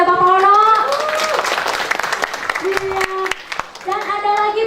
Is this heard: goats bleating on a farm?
no